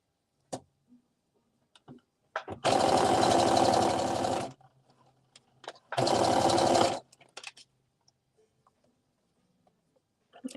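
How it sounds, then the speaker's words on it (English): A sewing machine stitches fabric in two loud, close bursts, a long run then a shorter one, each a rapid mechanical whir. Soft handling clicks and taps fill the quiet gaps, with no talking. "Back stitch at that dot where you insert your needle."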